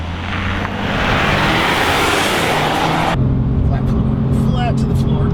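A manual Ford Maverick Lobo truck accelerates hard on a track. The engine roars loud and continuous under heavy road and wind rush, and the tone shifts abruptly partway through.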